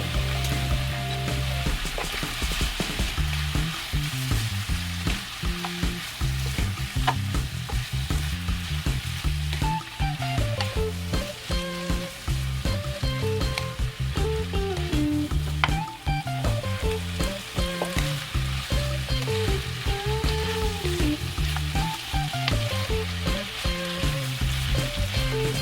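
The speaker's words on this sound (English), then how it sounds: "Put 1 spoon of oyster sauce and 1 spoon of yellow bean sauce. Stir them together for 5 minutes." Oyster sauce and yellow bean sauce stir-fried in a hot pan for black bean sauce noodles, giving a loud, steady sizzle with repeated scraping and stirring strokes throughout, no voices.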